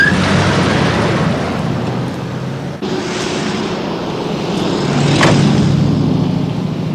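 A car engine revs and accelerates nearby, a steady loud roar that swells and falls, with no talking over it.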